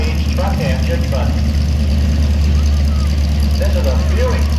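A Buick V8 engine idles in a 1961 International Harvester 560 tractor at an outdoor antique tractor show, with a loud steady low rumble beneath nearby chatter.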